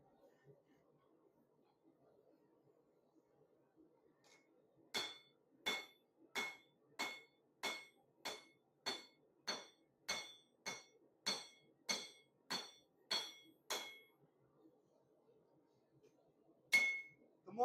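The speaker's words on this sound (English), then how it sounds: "The more you hammer out your metal, the thinner it will get, obviously." A hammer striking metal being worked into a saber blade, about a dozen sharp ringing blows in a steady rhythm, followed by a pause and one final strike, in a quiet room.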